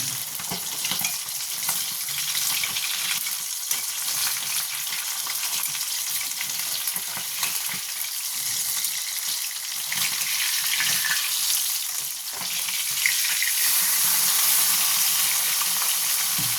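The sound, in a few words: fish frying in a pan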